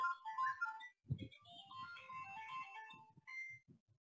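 Mobile phone ringtone signals an incoming call during an online Zoom session, a short melodic tune playing through a quiet room and then stopping, with a few soft background thumps.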